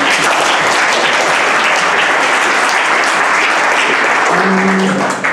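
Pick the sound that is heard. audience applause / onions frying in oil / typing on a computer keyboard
audience applause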